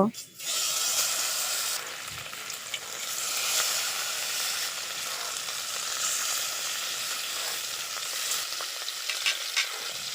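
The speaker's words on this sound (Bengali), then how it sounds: "তেলটা গরম হয়ে গেছে এখন আমি তেলের ভিতর মাছগুলো দিয়ে দেব" Taki fish fry in hot white oil in a wok with a loud, continuous, close sizzle and hiss after an initial splash as they go in. The sizzle surges and settles with faint scraping.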